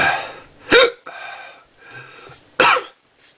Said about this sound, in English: Damn hiccups, so annoying.